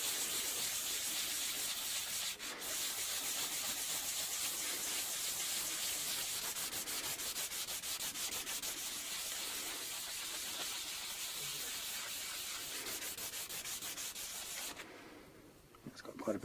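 Continuous rhythmic scrubbing as 240 grit sandpaper works over the lacquered body of a custom Stratocaster-style guitar, a close, steady raspy hiss of back-and-forth strokes that eases off in the final seconds.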